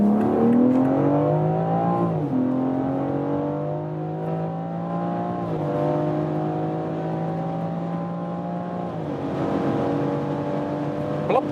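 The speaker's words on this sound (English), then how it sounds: "I'll reduce the speed a little bit for you that you can get more of this acceleration." A BMW X4 M Competition engine pulls hard through the gears from low speed, its rising drone dropping briefly at each upshift, loud and steady inside the cabin.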